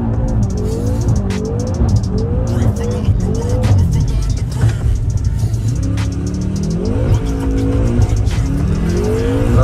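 Car drifting sideways on a snowy street, engine roaring and tires squealing in long wavering sweeps, loud and close, with voices talking over it.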